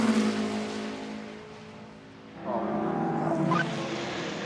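Two Porsche race cars run nose to tail at the 2024 FIA WEC 6 Hours of COTA, a fading engine note giving way to a rising, close, loud engine whine as a car passes.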